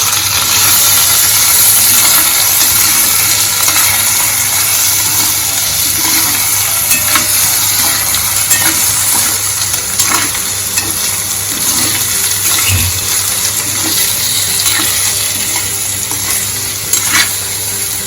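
Potatoes roasting with crushed chilies in a pan for a farali aloo dish, with constant loud sizzling and repeated scraping stirs of a spoon against the pan, and a low steady hum underneath and no voices.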